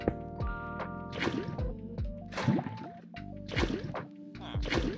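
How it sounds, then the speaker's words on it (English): Playful Minecraft water effects, splashing and sloshing mixed with short tonal plinks and thwacks, a busy run of cartoonish liquid sounds, no talking. "No, all water sounds."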